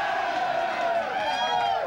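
A TV studio audience cheers and whoops loudly and without a break, a dense wall of many voices throughout.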